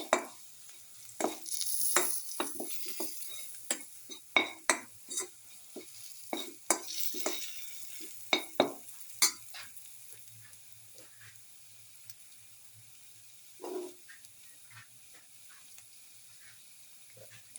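A spoon mixes spices and salt into a garlic, cottage cheese and tomato casserole, making a quiet series of irregular scrapes and light clinks against the pan with short pauses, and a soft sizzle beneath.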